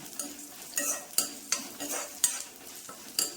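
Urad dal and chopped onion sizzle in a hot pan while a spoon stirs them, with repeated sharp scraping strokes about every half second over a steady frying hiss.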